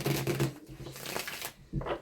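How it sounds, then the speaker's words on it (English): Tarot cards are shuffled during a reading, with several quick riffling and flapping bursts close to the microphone, separated by brief pauses, fairly quiet overall. "We're going to shuffle a few times while we're in the reading."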